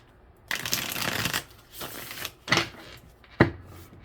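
A deck of cards shuffled during a weekend tarot-style reading, heard as a long riffling burst, then two shorter crisp riffles, close and alone.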